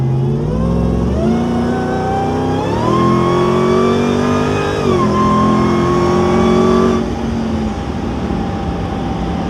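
A RAM TRX engine fitted with a Cornerstone cold air intake revs up in several rising pulls, its loud, steady intake whine climbing and falling with each surge before settling.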